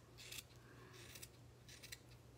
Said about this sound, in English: you just kind of trim it up and the way you want it to look round